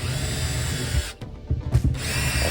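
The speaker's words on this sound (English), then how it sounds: "I'm just pilot drilling them." A Milwaukee drill whirs close by as it pilot drills pre-marked holes for mounting a boiling-water tap filter. It runs steadily, cuts out briefly, then gives a couple of short bursts before spinning up again.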